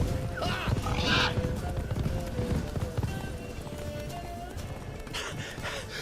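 Roach, a horse in the video game The Witcher 3, gallops with a rapid clip-clop of hooves and snorts, a faint whinny at the start, a voice speaking briefly over the steady running.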